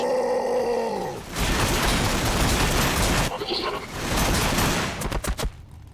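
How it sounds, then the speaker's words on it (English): Sustained bursts of Ork gunfire cutting down Necron warriors in a Warhammer video game, dense rapid shooting with a short lull midway and a few sharp final shots. "You guys just gun down these warriors."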